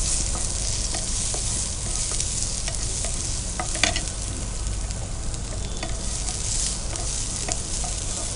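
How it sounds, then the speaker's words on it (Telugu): Onion sliced into hot oil with mustard seeds in a pan, cooking for a jeera onion buttermilk: a loud, continuous, close sizzle with light scraping stirs throughout, no talking. "ఇప్పుడు మనం కొద్దిగా ఆనియన్ యాడ్ చేస్తున్నాం."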